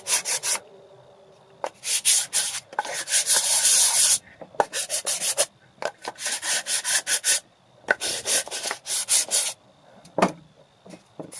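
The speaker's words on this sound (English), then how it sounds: "Just sanding the corners." Hand sanding the corners of a reclaimed wood phone stand with 120 grit sandpaper, repeated close, loud rasping strokes in bursts separated by brief pauses.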